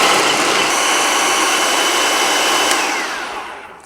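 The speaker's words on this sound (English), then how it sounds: "we're going to process them until the mixture resembles a crumbly dough" A food processor runs steadily as it chops dates, cherries and walnuts into a crumbly dough, giving a loud, continuous whirring grind that holds for a few seconds and then winds down at the end.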